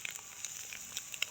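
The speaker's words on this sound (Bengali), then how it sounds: "এই যে আমার পনির ভাজা হয়ে গিয়েছে" Paneer frying in a pan: a soft, steady sizzle with small scattered crackles and pops, heard faintly and alone.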